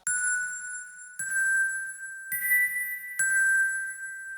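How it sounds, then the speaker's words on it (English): A bright bell rings four times in a steady pattern, shifting to a slightly different pitch on some strikes, each note ringing out with a long tail. "This one is playing a slightly different note just to add in some more variation."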